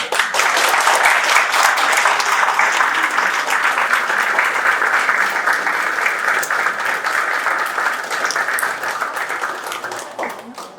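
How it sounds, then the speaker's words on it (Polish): Warm applause fills the room for a newly married couple at a civil wedding ceremony held outside the registry office, steady clapping close and full that slowly thins toward the end. "Brawa!"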